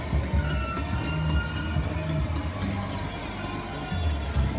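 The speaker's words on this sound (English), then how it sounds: "There's a crowd there." An outdoor crowd gathers at a walk-up event in Washington, DC, with a steady wash of many voices and movement that continues without pause, and people talking close by.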